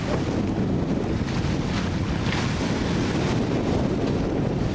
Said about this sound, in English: Oh, that was just a little gust then.